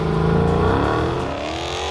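A 2015 Dodge Challenger R/T Scat Pack V8 accelerates hard, its loud, close engine roar rising steadily in pitch for two seconds.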